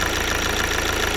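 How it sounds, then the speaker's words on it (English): A 2-liter diesel engine in an Audi A6 with a turbo boost fault idles steadily, its dense clattering rumble heard up close and constant with no voices. "This is a 2-liter diesel engine,"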